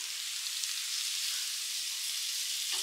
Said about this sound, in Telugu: ఒక 1/2 స్పూన్ అంత సాల్ట్ యాడ్ చేసుకొని ఇవన్నిటిని మంచిగా ఒక 2-3 నిమిషాలు ఫ్రై